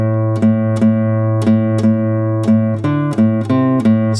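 Picked guitar notes ring out without palm muting, a steady sustained tone with a sharp pick attack roughly every half second, clear and close with no voices.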